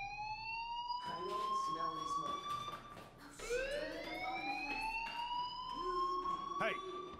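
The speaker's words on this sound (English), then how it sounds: "do you hear that fire alarm?" School fire alarm in the Life Is Strange video game, a loud rising electronic siren tone repeating steadily for several seconds, with speech over it.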